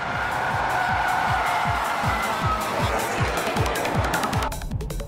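A race car slides through a corner on a circuit, its engine buzzing loudly with a rapid, rhythmic pulsing and a sustained tire hiss, no talking.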